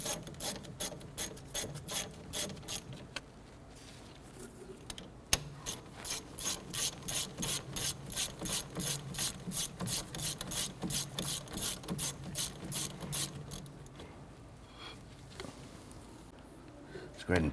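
A hand ratchet clicks in rapid, even bursts while snugging down rear brake caliper bolts on a Chevrolet Impala, close and moderately loud, with a brief pause midway before the ratcheting resumes.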